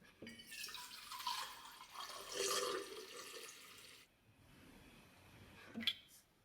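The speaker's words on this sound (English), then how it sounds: "So I'm gonna get this full of water" Tap water running into a bottle, a steady rushing pour that shifts in pitch, then quieter trickling and a small clunk near the end, close and soft.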